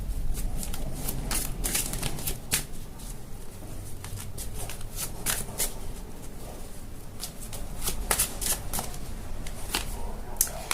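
Oracle cards shuffled by hand during a tarot-style love reading, a steady run of soft papery riffles and flicks close up, continuing throughout without speech.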